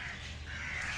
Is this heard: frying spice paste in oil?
no